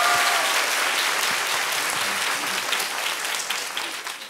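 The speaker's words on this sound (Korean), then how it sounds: "다시 한번 박수 부탁드립니다." A lecture audience at a university talk event applauds steadily, a dense, even patter of clapping that holds strong and then gradually thins toward the end.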